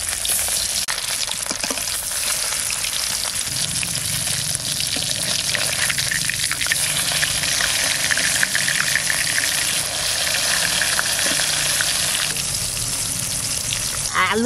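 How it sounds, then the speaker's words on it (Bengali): Catla fish sizzles steadily in hot oil in a pan, a dense continuous frying hiss with faint stirring and little talk. "মাছটা আমরা ভেজে নেব না?"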